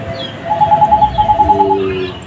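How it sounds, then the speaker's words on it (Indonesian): A phone rings for an incoming call, a rapid pulsing electronic trill repeated in two bursts, followed by a steadier tone, loud over a low background hum. "Telepon masuk."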